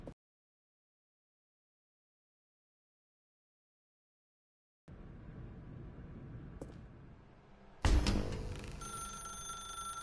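A telephone rings in the video game The Stanley Parable, sounding after a long silence and a low ambient hum, with a sharp, loud ring bursting in near the end and continuing with sustained tones.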